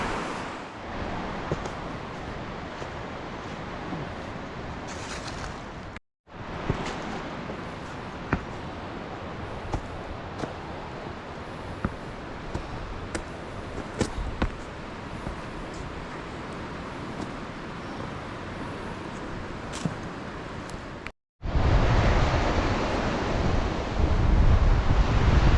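A river flows beside the Har Ki Doon trek trail, a broad continuous rush of water mixed with gusty wind on the microphone, steady throughout with two brief dropouts and a louder, closer stretch at the end.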